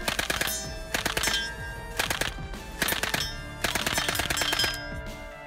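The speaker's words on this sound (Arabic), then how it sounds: "رشاش شباغين بيبيشا" A Soviet WWII-era PPSh-41 Shpagin submachine gun fires four loud, rapid bursts, each a dense rattle of shots separated by short pauses.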